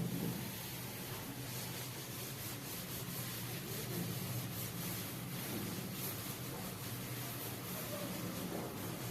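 Writing being rubbed off a classroom board, a continuous soft dry scrubbing that runs steadily for several seconds at low volume, with no voices over it.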